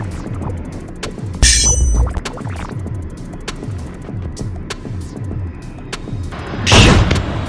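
Gunshot sound effects added in a Kinemaster edit: two loud, sharp bursts a few seconds apart over a steady, rhythmic low thumping and hum.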